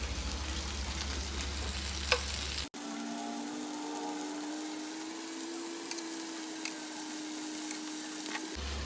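Tandoori chicken pieces frying in a covered pan over a low flame, giving a steady, even sizzle with a low hum running underneath and no voices.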